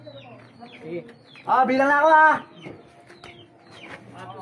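Birds call outdoors at a bird-release event, with one loud, harmonic crowing cry lasting about a second midway through, while people talk and shout before and after it.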